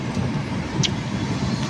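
Steady road traffic near Taytay, with a continuous broadband car rumble and a brief passing hiss from one vehicle, heard close and fairly loud without talk.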